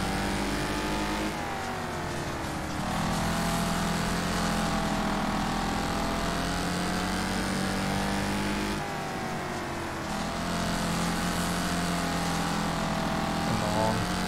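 A V6 lawnmower engine racing in Wreckfest, a loud continuous engine drone that climbs through the gears with brief dips at each shift, steady and close throughout.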